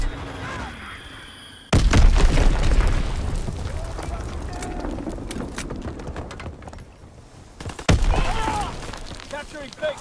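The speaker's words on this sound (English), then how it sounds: "Enemy bomb incoming." Enemy bombs explode in a video-game battle. Two heavy, sudden booms land several seconds apart, each followed by a long rumbling decay with scattered crackle and pops, and other game sounds continue underneath.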